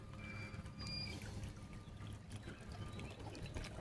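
Water from an artesian spring flows and trickles in a steady, soft outdoor wash, faint and continuous, with a brief bird chirp above it.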